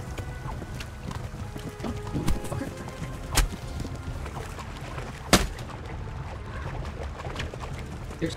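Horse hooves in the video game Kingdom Come: Deliverance clip-clop steadily at a moderate distance, with a few sharp louder clacks standing out over a low rumbling background.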